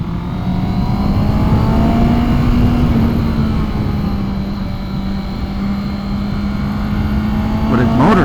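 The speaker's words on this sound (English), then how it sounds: "Motor sounds really nice, especially when you get it up in the rev range." A 2021 Honda CB650R inline-four motorcycle engine sings steadily at high revs, a loud, smooth, continuous drone with slight pitch swells and a brief extra rise near the end.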